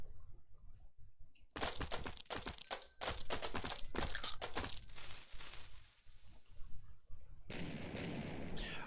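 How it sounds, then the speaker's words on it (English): Nitro Creeper explosions set off in a modded Minecraft-style game, a rapid barrage of sharp bursts and crackling pops, fairly faint, followed by a sustained hissing rumble. "You want some fireworks? Just spawn a bunch of Nitro Creepers."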